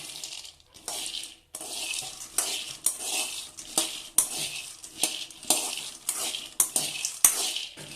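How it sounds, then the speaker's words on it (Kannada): Half a kilogram of raw peanuts dry-roasting in a pan for festival holige, a steady rattling scrape of the nuts being stirred with a spatula in repeated strokes, close and fairly loud, with no talk. "ಇದನ್ನು ಒಂದು ಅರ್ಧ kg ಅಷ್ಟು ಶೇಂಗಾ ತೊಗೊಂಡಿನಿ. ಇವ್ನು ಹುರ್ಕೊಂಡು ಬಿಡೋಣ ಮೊದಲು"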